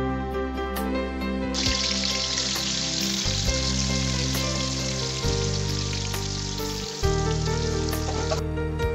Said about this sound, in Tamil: தேவையான அளவு எண்ணெய் ஊற்றிக்கோங்க பிறகு எண்ணெய் சூடாயிட்ட பிறகு நம்ம வச்சிருக்கிற ஸ்டவ்வை பொறிச்சு எடுத்துக்கலாம்